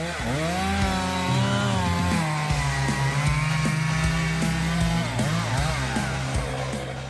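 A chainsaw fells a large poplar tree up to 1.3 meters in diameter, cleared for a road expansion; the engine roars loud and close throughout, its pitch rising and dipping as the saw bites into the wood.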